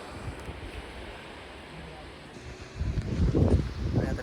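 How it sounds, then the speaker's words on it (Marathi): Sea waves breaking on a beach, a soft broadband wash swelling louder toward the end, with wind noise across the microphone throughout. "पाण्याचा आवाज ऐका शकताय"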